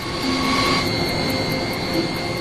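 Steady, loud roar of an F-4 Phantom fighter jet engine, a continuous sustained rush with a high whine running through it and no pauses.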